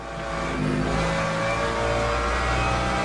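Corvette race car in the Le Mans Ultimate video game, a deep low engine rumble swelling slightly at the start and then droning on loud and steady.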